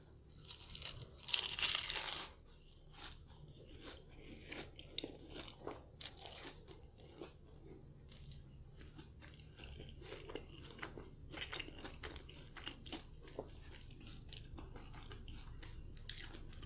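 A crunchy tart from a Pizza Hut feast being eaten, with a loud crisp bite at the start followed by quieter repeated crunching and chewing close to the mic, no talking.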